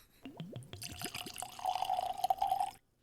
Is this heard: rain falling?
no